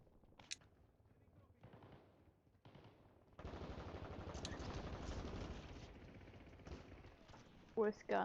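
Rapid video-game gunfire from a weapon, a dense sustained burst in the middle of the clip, with scattered single shots around it and a voice talking before and after.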